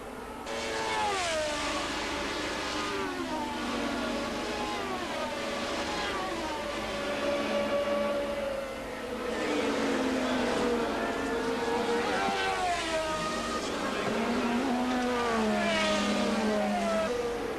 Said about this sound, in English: Jones is right behind him and sneaks brilliantly between the two Renaults.